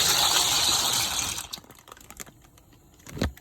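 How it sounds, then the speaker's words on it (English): A loud, steady rushing hiss of boiling water dies down abruptly as pasta is dropped in, followed by faint scattered clicks and a short low thump near the end. "my water is boiling, so I'm gonna go ahead and I'm gonna put my pasta into it"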